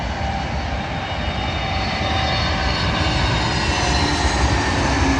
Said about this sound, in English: this time an A321neo from Edinburgh to London Heathrow